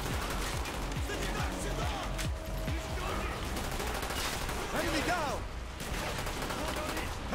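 Rapid bursts of gunfire crackle through a Call of Duty Black Ops campaign battle, dense overlapping shots and automatic fire at moderate level, with game sounds mixed in.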